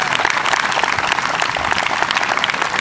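Audience applause at the opening of a baseball league tournament, loud, dense clapping that holds steady throughout.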